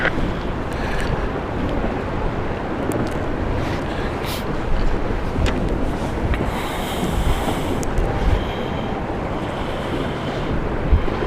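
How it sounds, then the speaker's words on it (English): Steady wind buffeting a microphone outdoors at London City Airport, with a constant rushing roar and occasional gusts, no voices. "you think it's windy there at the moment?"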